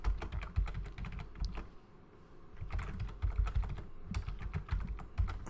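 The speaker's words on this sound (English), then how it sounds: "So let's go ahead and type our class." Keys clatter in steady bursts on a computer keyboard as Java code is typed, close and fairly quiet, with a brief pause midway.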